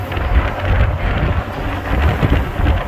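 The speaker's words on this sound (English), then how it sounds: "Wind is blowing like crazy out here." Strong wind roars continuously outdoors at a spacecraft recovery site, loud buffeting noise hitting the microphone throughout with low rumbling gusts.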